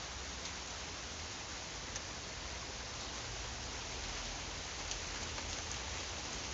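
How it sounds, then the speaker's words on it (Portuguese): Steady rain falling, a continuous even hiss of drops with no pauses, fairly close and with no voices. "Alguém pode me explicar por que tá chovendo?"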